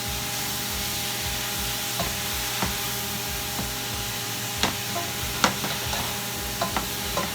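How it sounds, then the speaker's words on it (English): Greens sautéing with adobo seasoning and oyster sauce, a steady sizzling hiss broken by scattered clinks and scrapes of a spatula stirring the pan, close and continuous with no talk. "So you just basically saute it, and this will be ready in 2 minutes."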